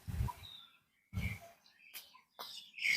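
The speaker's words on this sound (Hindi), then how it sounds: "मेरे अलावा और बहुत सारी यहाँ पर आवाज़ आ रही है पक्षियों की" Many birds chirping outdoors, scattered short calls and tweets at varying distances, interspersed with low rumbling bursts and brief quiet gaps.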